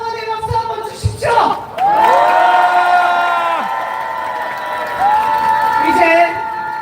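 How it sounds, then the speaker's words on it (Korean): A large crowd at a candlelight rally in Korea urging impeachment bursts into applause and loud cheering, with sustained shouts and whoops rising, holding for several seconds, then fading before a second swell. "서로에게 힘찬 응원의 박수 한번 주십시오"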